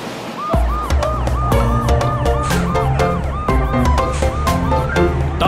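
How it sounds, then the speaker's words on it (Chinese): A police car siren wails with rising and falling tones through a children's cartoon song about super cars, loud and continuous over a bright musical backing. "红警车滴滴呜"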